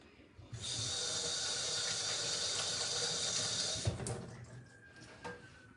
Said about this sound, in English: Rinse my hands off one more time.